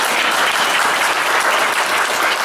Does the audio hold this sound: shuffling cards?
no